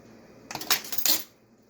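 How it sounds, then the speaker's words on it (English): Coleslaw ingredients being mixed in a bowl for a pulled pork BBQ meal: a short burst of clattering, scraping utensil-on-bowl sounds lasting under a second, close and fairly loud, with no talking. "Now you mix all this up real good."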